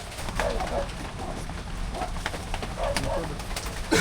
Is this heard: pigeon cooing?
yes